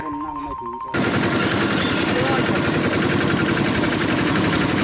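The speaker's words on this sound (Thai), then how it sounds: "ฟังเสียงรถสิ ตักตักตักตักตักนี่แหละที่มาของชื่อรถแตกแตก" A Thai 'taek taek' farm vehicle engine chugs loudly and steadily at close range, a dense rapid putter that starts abruptly after a second of quieter talk and runs on without a break.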